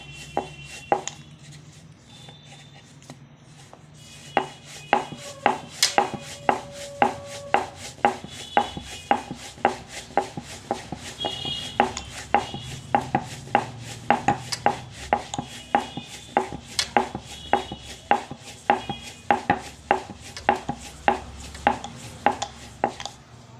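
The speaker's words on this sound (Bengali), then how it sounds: "এবারে লেচিগুলো একটা একটা করে বেলে নেব।" Roti dough balls being rolled out with a rolling pin, a long run of quick regular knocks and clacks of the pin against the board, close and steady, with no voices.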